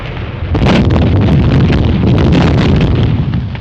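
An artillery barrage in a 1930 war film rumbles as a loud, continuous roar of explosions, deep booms blending into a dense wall of sound with sharper bursts scattered throughout.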